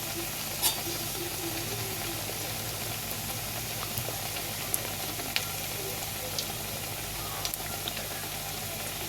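Flattened dough sizzles and crackles steadily in hot oil over a high flame, a constant frying hiss with a few faint clicks and no speech.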